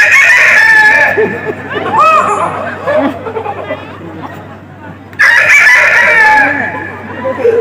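A man imitates a rooster's cock-a-doodle-doo crowing with his voice, two loud drawn-out calls at the start and end, with crowd chatter and laughter in between at a Bihu gathering.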